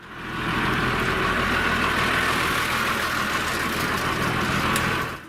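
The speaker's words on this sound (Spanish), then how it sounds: "El tractor se detuvo. La primera vez que se detiene un tractor." A tractor engine idles loudly and steadily at close range, a continuous rough rumble that fades in at the start and tails off at the end.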